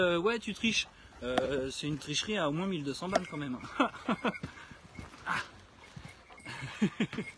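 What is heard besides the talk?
dog whimpering and barking on a hike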